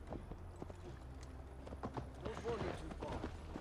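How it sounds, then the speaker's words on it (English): Horse hooves clop steadily as riders travel toward Tamworth in Assassin's Creed Valhalla, a rhythmic trotting beat near and fairly quiet, with voices talking over it throughout. "Mount up, Eivor. It's a long ride to Tamworth"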